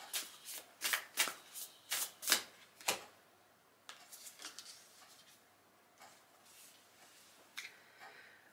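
A deck of cards is riffle-shuffled close up, with a run of sharp, fast bursts over the first three seconds and then softer, scattered flicks and taps as the cards settle. There is no talking.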